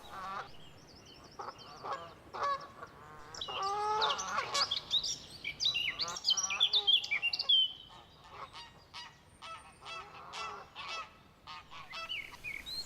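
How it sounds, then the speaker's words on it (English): Canada geese honk repeatedly at a lakeside stopover, several birds calling in overlapping bursts that build louder in the middle and then trail off into scattered, fainter calls. "Flocks of Canada geese use the lake as a stopover to rest before continuing on their journey."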